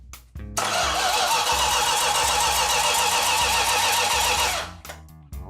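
A Dodge Super Bee with a 440 Six Pack V8 cranks briefly with the starter, then catches and roars into a loud, steady rumble for several seconds before cutting off abruptly.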